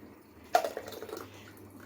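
A blended ground mixture is poured into a vessel of strained water, giving a close, soft splashing gush that starts abruptly and then trickles on quietly beneath a low steady hum.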